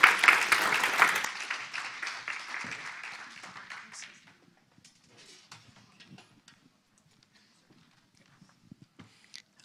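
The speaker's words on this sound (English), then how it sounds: "can we get a round of applause for Beth" Conference audience applause that is dense and fairly loud at first, then thins to scattered claps over the next few seconds before fading into quiet room noise with small shuffles.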